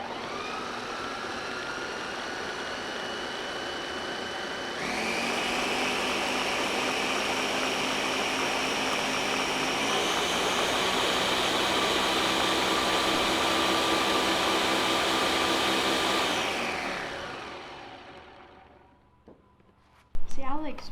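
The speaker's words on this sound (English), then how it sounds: "we're just going to go ahead and puree it." A blender purees peaches for peach ice cream, a loud steady motor whir that steps up in speed twice, runs for about seventeen seconds, then winds down and ends with a brief knock.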